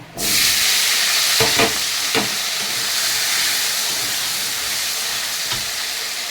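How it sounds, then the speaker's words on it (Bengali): Potato pieces sizzle in hot oil in a pan, a steady close hiss throughout with a few stirring scrapes and clatters. "এখন আমি আলুটাকে ভেজে নেব"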